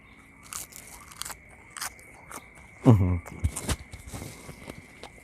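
Fresh raw napa cabbage bitten outdoors at dawn, giving one loud crisp crunch followed by a few softer crunching chews, with faint rustling and quiet background noise around it.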